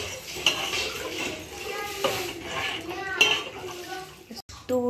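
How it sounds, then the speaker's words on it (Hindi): Ground rice added to a pot for kheer and stirred continuously, making a steady scraping and light clinking of the spoon against the pot under a faint sizzle, with someone talking over it. "ये चावल डालेंगे और इसको कंटिन्यू चलाते रहेंगे"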